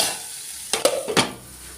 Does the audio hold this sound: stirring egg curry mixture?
yes